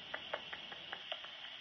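Bat detector output from a bat hunting flies on a June evening by a balcony, a faint run of regular ticking clicks about every fifth of a second over a steady electronic hiss.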